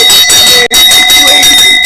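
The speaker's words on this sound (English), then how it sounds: "let's ring the bell." A bell rings continuously, loud and close, with a bright metallic tone that briefly cuts out once before carrying on.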